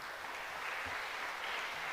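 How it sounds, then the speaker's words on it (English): Parents at a high school athletic awards ceremony give a brief, steady round of applause that sounds soft and somewhat distant. "you guys give yourself a round of applause for the young athletes that you guys have raised"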